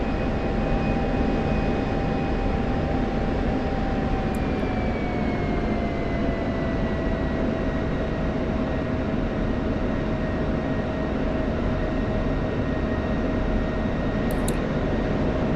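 Steady, loud F-16 fighter jet engine roar in the DCS World flight simulator, a constant broadband drone with a slowly falling whine running for the whole stretch, no voices over it.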